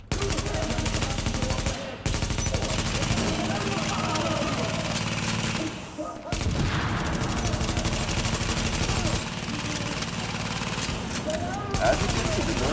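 A deployed turret in The Division fires continuously in a dense, loud stream of automatic gunfire, broken by only a few brief pauses, over constant game noise.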